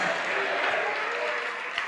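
A church congregation applauding, a dense steady wash of clapping filling the whole short stretch at moderate loudness, with no clear voice over it.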